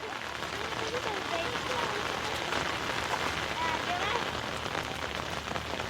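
Rain falling steadily on an open farm field during planting, a dense continuous hiss of drops throughout, with people talking over it.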